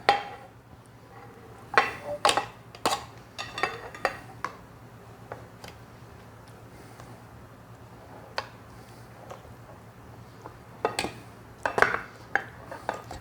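Spoon scooping oatmeal fruit-and-nut batter into sprayed metal muffin tins, a scattered series of sharp clinks and taps at irregular intervals, some in quick clusters, against a quiet kitchen background.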